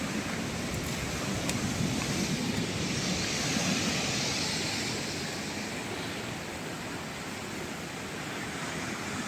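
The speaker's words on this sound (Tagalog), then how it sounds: "Malakas yung alon dito." Strong surf breaking at a beach resort in General Nakar, Quezon, a steady loud roar of waves with wind buffeting the microphone throughout, no clear talk.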